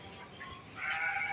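Suffolk cross sheep bleating in a drawn-out call that swells louder toward the end, close and alone with no talk.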